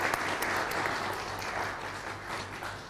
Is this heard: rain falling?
no